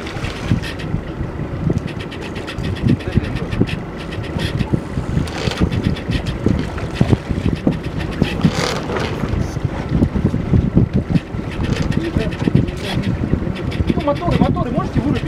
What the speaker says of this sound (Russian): Моторы можете вырубить?